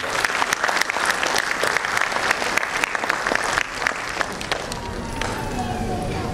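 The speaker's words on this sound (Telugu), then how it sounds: "వారికి మనం అందరం చెయ్యెత్తి చప్పట్లు కొట్టే అవసరం." An audience at a Telugu community gathering claps loudly during a keynote speech, dense continuous applause that thins slightly toward the end.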